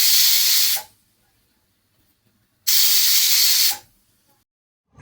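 A pressure cooker cooking spinach khichdi on the stove lets off two loud, sharp bursts of hissing steam, each about a second long, separated by a quiet pause, with no talk.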